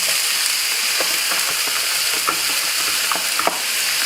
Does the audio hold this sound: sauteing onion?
yes